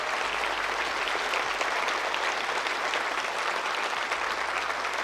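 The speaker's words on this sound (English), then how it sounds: "give a round of applause for all of our staff, our judges, our volunteers" Sustained applause from a large crowd at a Lorcana championship event, an even wash of many hands clapping at a steady level from start to finish, with no talking.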